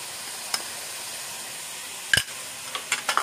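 Chicken curry with ginger garlic paste fries in a pan with a steady, soft sizzle, broken by a few sharp scrapes and clinks of a spoon stirring near the end.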